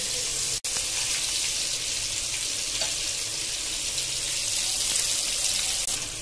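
Live katla fish frying in a pan for a Bengali-style dish, giving a steady, even sizzle and hiss throughout, with one brief dropout near the start and no voices.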